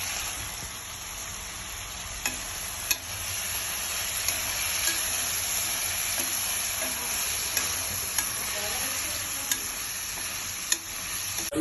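Ginger garlic paste with mint leaves frying in a pan for a kala sharva curry, a steady close sizzle with occasional stirring clicks and scrapes, no voices.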